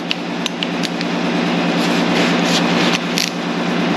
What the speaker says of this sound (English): I got the cheap screwdriver going here